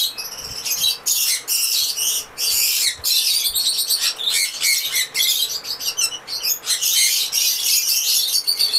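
A breeding pair of sun conures in a bird shop shrieks and squawks almost without pause, shrill calls stacking densely up close, with other cage birds chirping around them.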